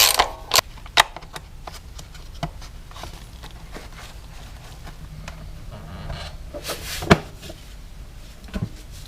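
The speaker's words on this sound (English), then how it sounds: "I'm just going to use the regular ratchet, as I don't want to over tighten anything or break anything here" A hand ratchet tightening bolts while converting a gas generator to run on propane, sparse quick pawl clicks and metallic clacks in short bursts, close and moderately loud over a quiet background, with no speech.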